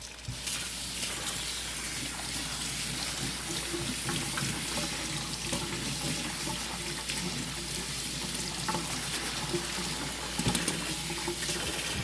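Cold tap water runs steadily into a strainer of rice, a close continuous splashing stream with faint rinsing movement and a few brief knocks near the end.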